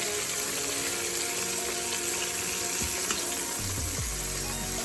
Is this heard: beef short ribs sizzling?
yes